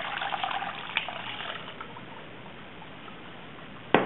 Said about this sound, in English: stirring 2 cups of boiling water into the gelatin